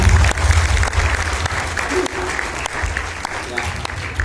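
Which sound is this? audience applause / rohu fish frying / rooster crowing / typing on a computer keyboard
audience applause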